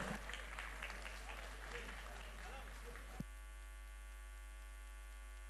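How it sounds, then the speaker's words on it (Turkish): A crowd at a Malatya promotion day event applauds for about three seconds under a strong mains hum, then the clapping cuts off abruptly and only the steady hum remains. "Alkışlar yazı tura ekibimize gelsin"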